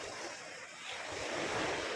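Ocean waves washing onto a seaside beach, a soft continuous surf hiss with a faint swell toward the end, heard from nearby at low volume with some wind and no talk.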